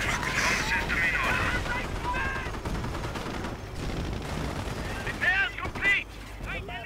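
Gunfire in the World War II strategy game Company of Heroes, with bursts of battlefield shooting and explosions near and loud throughout, under overlapping excited voices and in-game radio chatter.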